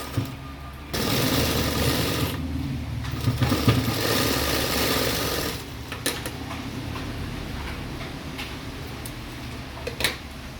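A sewing machine stitches along the folded neckline edge of a frock-style V-neck nighty, running in a steady continuous whir for long stretches, pausing briefly, then resuming close up with faint mechanical ticks.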